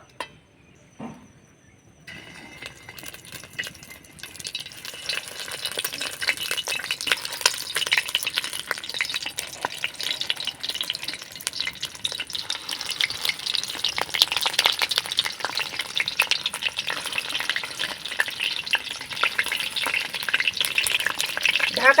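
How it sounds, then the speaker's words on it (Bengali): Onions stuffed with egg fry in hot mustard oil in a wok. A steady, close sizzle starts after a brief quiet and grows into continuous crackling, with no voices. "কড়াইয়ে দিয়ে দিব সরষার তেল তেল গরম হয়ে গিয়েছে এখন আমি ডিম পেঁয়াজগুলোকে ভেজে নেবো"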